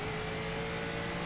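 Faint, steady drone of a race car engine holding a high rev in the racing video game GRID, a continuous whir with no voices over it.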